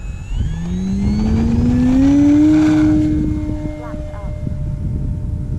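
A scale model Cessna airplane takes off into the wind, its small engine droning loud and close, the pitch climbing steadily as it accelerates, then holding a high whine and easing off over a constant wind rumble.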